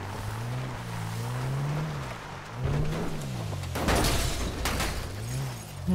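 A car driven in GTA V with a zombie apocalypse realism mod: the engine drones and rises and falls in pitch as it speeds up and slows, with crashing, rattling impacts midway.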